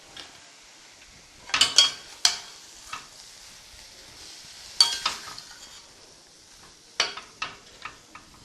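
Asafoetida powder hits hot oil for mango rice, giving short bursts of sizzle and scraping stirs in a pan, close by, coming in several separate clusters with quiet gaps between.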